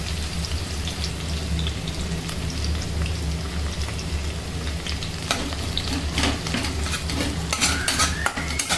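Onions with garlic frying and being stirred in a pan for a village-style Indian kundru (ivy gourd) dish, a steady close sizzle with scraping stir strokes throughout and no talking.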